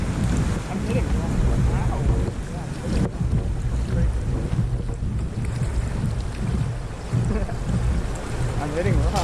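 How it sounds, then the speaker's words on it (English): A boat running the Coosa River whitewater rapids, with loud rushing water and wind buffeting the microphone throughout, and scraping, knocking hits against rocks mixed into the churning roar. "I was hitting rocks right there when I was paddling."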